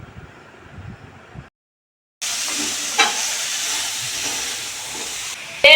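Chopped onions and tomatoes hit hot oil for Maggi noodles and break into a loud, steady sizzle and hiss after a brief quiet pause, with faint clatter near the end.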